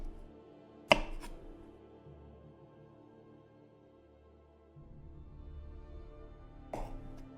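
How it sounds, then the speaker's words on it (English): A knife chops young onions with a tough outer layer, giving a sharp cut near the start and another near the end, with a low, steady kitchen hum between them. "These young onions do not cut so well,"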